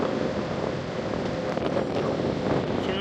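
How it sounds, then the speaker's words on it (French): Strong wind blows over the Bay of Kotor near boats heading out, buffeting the microphone in a continuous rough rumble and roar, with faint water sounds beneath. "Il y a beaucoup de vent."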